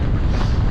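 Strong gusting wind on the exposed summit of Snowdon roars loudly and continuously against the microphone, cold and rainy, with no voices.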